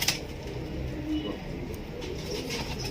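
Pigeons in a loft coo softly and repeatedly over a faint background hum, a low throaty murmur with no talking.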